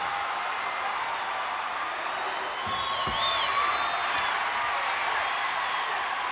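Capacity crowd in a 1988 WWF wrestling arena roars and cheers after a bout, a continuous loud, distant-sounding wash of voices that swells midway, with faint whistles cutting through.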